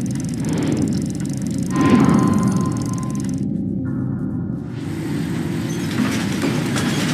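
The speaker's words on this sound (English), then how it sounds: "Get a train running north, hitch a ride straight to the skull." Train running in the Captain America: Super Soldier video game, a steady rumbling rail drone with a brief swell of louder rolling noise, heard alone without talk.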